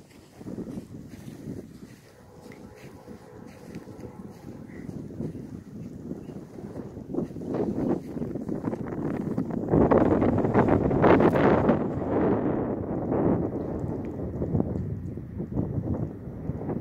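Wind blows across an outdoor golf course on a par 5, a steady broadband rush and microphone buffeting that swells louder partway through with no talking.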